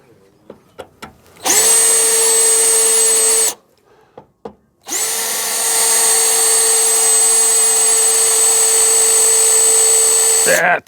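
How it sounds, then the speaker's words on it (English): An electric drill bores a pilot hole in a radiator core support, a loud high whine running for about two seconds, pausing, then a long steady second run of several seconds, with a few knocks before. "Let me see if I can drill a smaller hole for this pilot."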